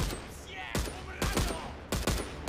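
Three separate heavy gunshots from an old WWI-era firearm in the game Contraband Police, each a sharp loud crack with a short decay, spaced roughly half a second to a second apart over a quieter background.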